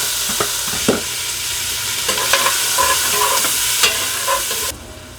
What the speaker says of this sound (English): And we go back in with our vegetables and our bacon.